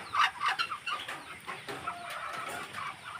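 Newly hatched chick and hens on a farm, with close clucking and a few higher cheeps at the start, then quieter continuous fowl murmuring and chatter in the background.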